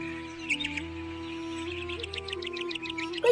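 Cartoon parrot chirping in a short series of high, bright tweets over a steady tonal background hum, with no talking.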